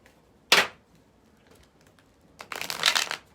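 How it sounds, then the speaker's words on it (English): A tarot card deck is shuffled in two quick bursts, one short riffle and then a longer crisp flurry of card flicks, close and otherwise quiet. "One more shuffle with this deck."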